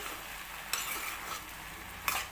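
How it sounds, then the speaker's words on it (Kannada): Chopped tomatoes fry in plenty of oil, a continuous close sizzle with two brief scraping stirs of a utensil against the pan. "ಟೊಮೆಟೊ 1 ರಿಂದ 2 ಇಟ್ಟಿರುವಂಥ ಟೊಮೆಟೊ ಅದನ್ನು ಮಿಕ್ಸ್ ಮಾಡೋಣ"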